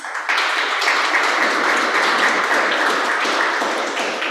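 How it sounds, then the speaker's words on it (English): An audience at a city meeting gives a round of applause, a loud, sustained spray of many hands clapping that starts abruptly and holds steady for several seconds before easing slightly at the end. "Let's give them a round of applause."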